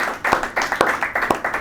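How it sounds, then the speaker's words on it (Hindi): A studio audience claps for a guest on a talk programme, with a short burst of rhythmic, fairly close hand claps at an even pace. "एक दफ़ा फिर से हमारे आज के गेस्ट के लिए ज़ोरदार तालियां।"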